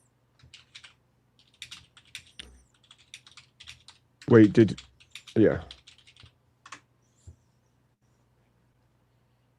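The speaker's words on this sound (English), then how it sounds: "Damn, someone's typing away. You got a typewriter or what?" Keyboard typing in scattered bursts of clicks and clacks, close and fairly crisp, interrupted by a brief spoken phrase partway through.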